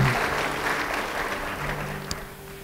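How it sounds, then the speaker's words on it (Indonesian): A church congregation claps together during a sermon, steady applause that gradually fades. "Beri tepuk tangan bagi Dia."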